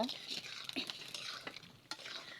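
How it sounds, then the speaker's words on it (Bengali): Chicken and potatoes are stirred in a pot over a gas flame, with continuous sizzling frying and scraping strokes and light clinks of the spoon against the pot, close and fairly loud. "তো এই তো আমি এটাকে কিন্তু ভালোভাবে নেড়েচেড়ে কষিয়ে নেব"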